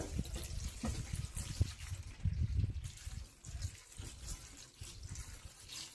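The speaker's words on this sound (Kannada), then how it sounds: "ಮೇಲೆ ಸ್ವಲ್ಪ ತಣ್ಣೀರು ಹಾಕೋಬೇಕು" Cold water pours and splashes over cooked pasta in a kitchen, a quiet, uneven trickle and slosh with brief drips and no talking.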